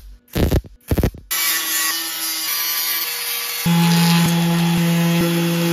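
A welding torch fills holes in the body of a BMW E30 330i during repainting. Two short bursts come first, then a sustained crackling buzz that steps louder partway through, with a steady tone running under it.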